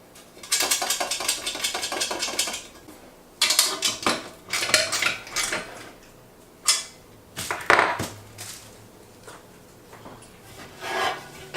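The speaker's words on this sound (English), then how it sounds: "Got some fairly heavy duty looking metal legs here. Those just slip on." Heavy-duty metal legs slipped onto a Barrel House Cooker 18C, a steady rattling scrape followed by a string of sharp metallic clanks and knocks, close up, with no talk over them.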